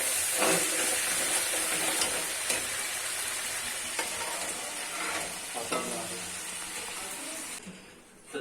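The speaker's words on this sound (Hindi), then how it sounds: "कलेजी को हमने अच्छे से भून लिया, बुनाई कर ली है कलेजी की।" Liver (kaleji) stir-fried in a pan gives a steady, close sizzle and hiss, with a spatula scraping and clinking now and then, ending in a brief quieter moment.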